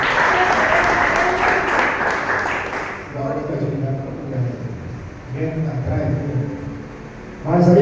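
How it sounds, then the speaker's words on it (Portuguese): Church congregation clapping in praise during a worship service; a dense burst of applause for the first three seconds, then it drops away as a voice speaks and low music or murmuring continues, with clapping swelling again at the very end. "Mais palmas a Jesus, Deus."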